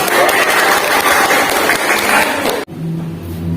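Students in a classroom clap their hands together in a dense, loud burst that stops abruptly, leaving a quiet room with faint voices and a low hum.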